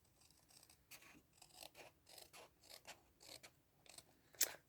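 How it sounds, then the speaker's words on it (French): Scissors snipping through paper to cut a card base, a string of about eight short crisp cuts in a steady rhythm, close and fairly quiet with no talking. "Donc là, je viens prendre mon ciseau."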